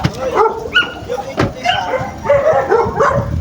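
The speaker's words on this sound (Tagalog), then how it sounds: "dito na po yung mga aso natin" Several rescued stray dogs, eleven of them, bark and yip in repeated overlapping bursts at close range, with a few whimpers mixed in and some voices talking faintly underneath.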